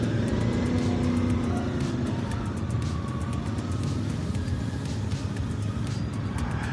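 A CFMOTO Ibex 450 parallel-twin motorcycle hums steadily on the road, its engine drone loud and close throughout, with wind rushing over the mic and no speech.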